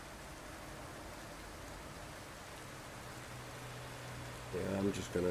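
Steady rain in Euro Truck Simulator, a soft continuous patter with a low truck engine hum, and a voice near the end.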